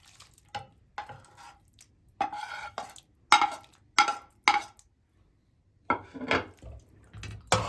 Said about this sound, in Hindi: तो ये मिक्स कर लिया हमने गोश्त।